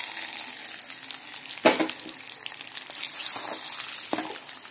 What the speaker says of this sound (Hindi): देखिए मैं अभी इसको छोंक को इसमें डाल दूंगी।